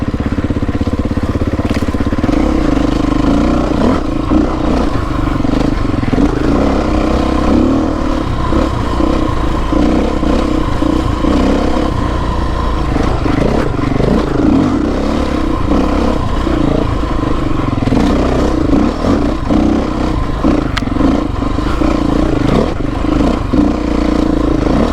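A Beta 350 dirt bike engine revs steadily while riding, a loud continuous drone with clattering from the terrain throughout and no pause.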